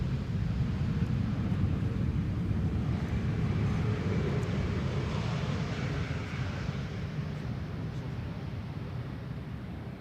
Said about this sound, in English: There's the A350.